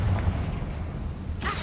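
A Confringo fire-blast spell in Hogwarts Legacy bursts into a deep, rumbling explosion that holds as a heavy low roar, with a brighter crackling flare near the end.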